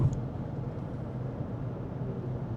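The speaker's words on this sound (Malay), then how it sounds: "pada kelajuan hampir 80 di jalan yang kasar, kita boleh dengar tayar noise, bunyi tayar lah, bunyi tayar" Car tyres roar over a rough road at nearly 80 km/h, a steady low rumble heard from inside the cabin, continuous and moderately quiet with no talking.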